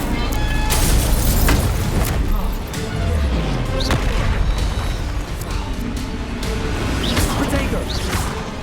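A fiery Incendio spell in Hogwarts Legacy, casting whooshes and bursts of flame over a constant loud combat din with booms and crashes, spread across the whole stretch.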